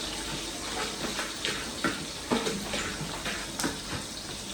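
Onions dropped into hot oil in a large pot for biryani, a steady loud hiss and sizzle with a few brief crackling bursts.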